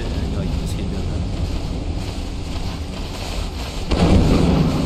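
A thunderstorm with lightning in the video game Lethal Company: a steady, heavy rumbling roar like wind and rain that swells louder near the end, with no clear talk.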